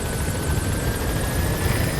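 Support helicopter arriving in the video game Metal Gear Solid V: The Phantom Pain, a loud, dense, continuous rotor thrum with steady whining tones, close and unbroken throughout.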